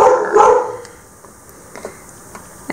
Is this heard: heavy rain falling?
no